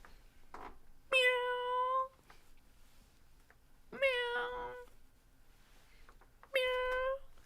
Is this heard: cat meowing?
yes